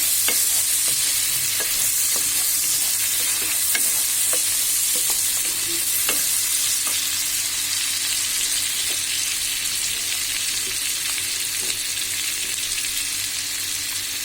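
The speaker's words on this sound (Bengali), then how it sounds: "পেঁয়াজটাকে কিছুক্ষণ নাড়াচাড়া করে" Chopped onions sizzle in a hot pan for a prawn and taro-stolon dish, a dense continuous frying hiss broken by frequent small pops and crackles as they are stirred, close and steady, with no voices.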